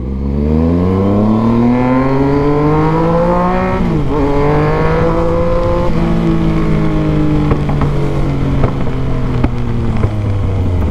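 A Yamaha MT-09 motorcycle pulls hard, its engine note climbing through revs, easing briefly, then rising again as it accelerates, loud and close with wind rush underneath.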